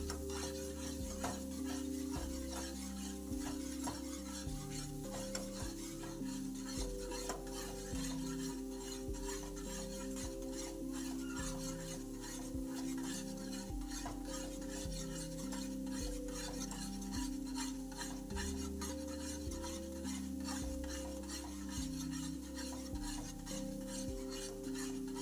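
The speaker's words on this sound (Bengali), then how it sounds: "এটাকে এইভাবে বেশ ভালো করে নাড়িয়ে চাড়িয়ে মিক্স করে নেব।" Chhana bhujiya frying in oil, stirred steadily with continuous scraping and a gentle sizzle over a constant musical background, with no pauses across the whole stretch.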